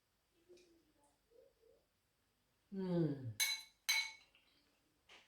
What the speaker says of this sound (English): I'm going to eat the pineapple with the rice and the gravy